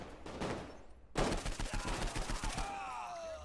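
Gunfire from the video game Saints Row 4 erupts after a brief lead-in as a rapid, loud volley of close shots, then trails off into a ringing tail.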